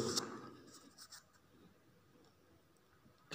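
Pen writing letters on paper during a handwriting lesson, soft scratchy strokes in short bursts, fairly faint and close, with no talking.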